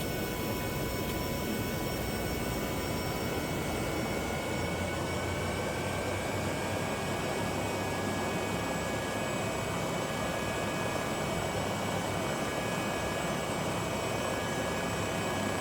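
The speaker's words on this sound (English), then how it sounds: "The next item is the engine run-up." Twin engines of an MD902 helicopter run in the X-Plane 12 flight simulator, a continuous loud turbine whine and broadband roar with steady high tones holding level throughout.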